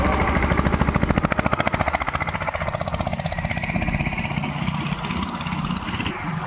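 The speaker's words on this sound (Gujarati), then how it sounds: "જો સામે ટ્રેક્ટર લઈને જાય છે." A loud, steady engine chugs with a rapid rhythmic thump, like a tractor running nearby, then slowly eases off as it moves away.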